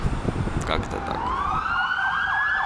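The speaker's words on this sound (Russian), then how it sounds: "Скорая пожарная." An emergency siren from an ambulance or fire engine wails along a street in Lebanon, a rising then rapidly warbling tone that swells over traffic rumble and city noise.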